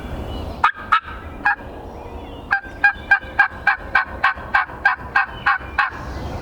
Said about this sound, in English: we just heard a bird gobbling down off in this bottom